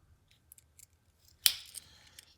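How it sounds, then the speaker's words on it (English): A pair of spring-mechanism scissors is handled in a quiet room, with small faint clicks followed by one sharp snap of the blades closing and a short metallic rattle afterward. "Next one, we've got some scissors."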